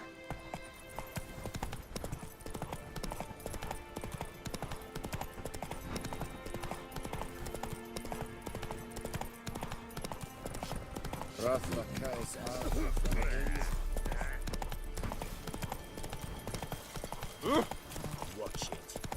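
In The Witcher 3, the horse Roach gallops with rapid rhythmic hoof clip-clops under game music, while a voice calls out in between.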